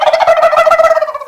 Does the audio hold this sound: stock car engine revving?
no